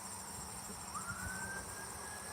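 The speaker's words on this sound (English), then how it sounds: "That sounds like a fire truck." A distant fire truck siren wails faintly, rising then holding a high tone, over a steady background hiss and insect-like hum.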